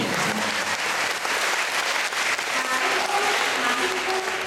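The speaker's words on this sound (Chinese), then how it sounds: "请大家掌声鼓励，要大声一点。" An audience at a school class performance claps in sustained, dense applause that stays loud and even throughout, with faint voices in the crowd.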